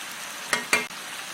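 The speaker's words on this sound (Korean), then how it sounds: "이렇게 맛을 자꾸 이것저것 넣고 맞추면서 이렇게 볶는 거야" Dried pumpkin strips (hobak-gojit namul) are stir-fried in a pan, with two quick scraping stirs over a faint, steady sizzle and no talking.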